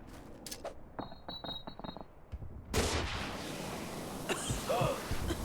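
Gas grenade in the shooter game Call of Duty: Future Warfare, with a few metallic clicks and a high tone before a sudden loud release of broad hissing gas that sustains to the end.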